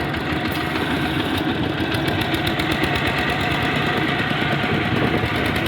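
A diesel tractor engine idles nearby with a rough, rhythmic knocking chug, steady and loud throughout.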